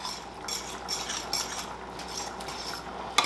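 Goulash with tomato sauce being mixed in a pot, a soft continuous scraping and clinking of a utensil against the pan, close and steady with a sharper clink at the very end, no voices.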